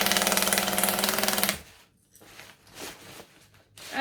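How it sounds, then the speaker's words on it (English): A sewing machine stitches the bottom of a bag shut with a fast, even, loud mechanical chatter for about a second and a half, then stops, leaving soft handling rustles. "Alright, so we're stitching the bottom shut."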